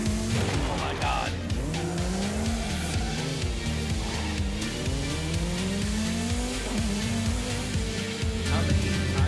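A car drifts in the Forza Horizon 5 racing game, its engine droning continuously under long wavering tire squeals, with a person talking over it.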